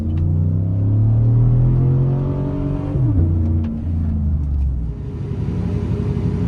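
A 2018 Chevrolet Silverado pickup with a muffler delete accelerates uphill, its loud, deep exhaust drone swelling steadily before the pitch drops and settles into a rougher rumble, close and continuous with no talking.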